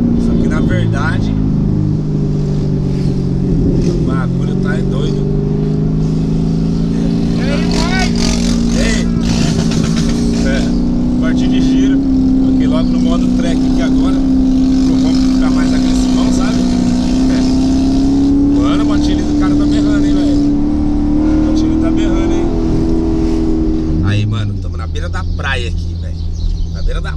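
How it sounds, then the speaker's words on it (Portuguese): Corvette with a manual transmission roaring as it drives along a beach, a loud steady engine drone that shifts pitch near the end, with people talking over it throughout. "o barulho do carro tá, tipo, tá estrondando por causa que ele ronca forte"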